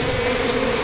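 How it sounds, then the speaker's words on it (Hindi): A dense, continuous buzz of many bees swarming close by, loud and unbroken. "किसी ने मधुमक्खी को छेड़ दिया क्या?"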